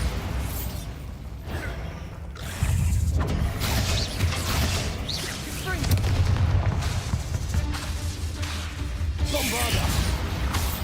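Bombarda blasting-spell explosions in Hogwarts Legacy, heavy booming bursts repeating every second or two over a busy, mechanical-sounding game background, loud and close.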